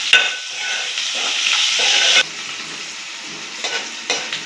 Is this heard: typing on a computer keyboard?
no